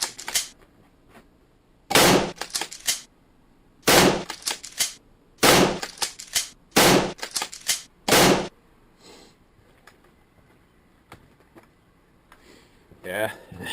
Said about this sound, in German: Aber immerhin haben wir ein paar Schüsse absetzen.